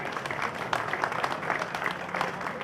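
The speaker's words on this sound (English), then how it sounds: "I think this is a good place to clap for His Excellency." Audience at a Nigerian government commissioning event claps for the state governor; separate hand claps stand out in a moderately loud, uneven patter, with no talking.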